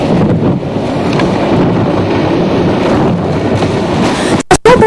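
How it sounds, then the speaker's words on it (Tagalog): Very strong typhoon wind roars continuously and loudly, buffeting the microphone with heavy low rumble and gusts, followed by a few brief sharp dropouts near the end. "Sobrang lakas ng hangin"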